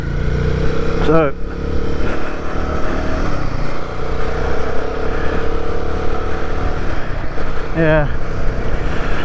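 A Royal Enfield Guerrilla 450 motorcycle rolls in with a steady, close engine drone and low rumble throughout, someone talking briefly over it.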